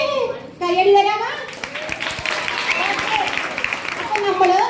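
An audience claps in a burst of steady applause lasting a few seconds, with children's voices just before and after it.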